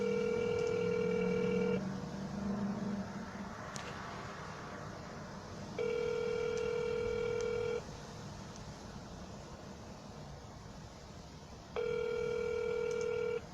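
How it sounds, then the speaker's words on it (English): A telephone placing a call during a cold-calling session: dial tones and repeated ringback tones pulse in regular bursts, with a faint background hum. "I'm gonna try calling Carol back now that I left a voicemail and sent her that text"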